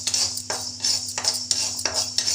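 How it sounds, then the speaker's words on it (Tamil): Fenugreek seeds dry roasting in a pan for sambar powder, stirred with a metal utensil that scrapes and clinks in a steady rhythm, close and fairly loud, with no talk. "அடுத்து பார்த்திங்கன்னா வெந்தயம் வறுக்கணும்."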